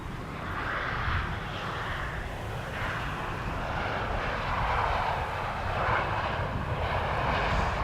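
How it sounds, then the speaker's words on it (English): A Transavia Boeing 737-800 airliner lands at Amsterdam Schiphol Airport, its jet engines producing a steady, distant roar with slowly shifting whine that holds for the whole stretch. "Transavia is landing, arriving from Alicante."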